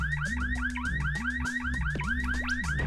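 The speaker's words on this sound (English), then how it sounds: "set off that car alarm" A car alarm in the video game Bomberman Hero wails loudly and continuously in a repeating electronic warble over a looping game tune, with no talk.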